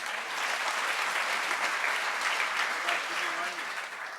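A crowd applauds steadily during a government budget speech, a dense wash of many hands clapping at moderate distance, with faint voices mixed underneath.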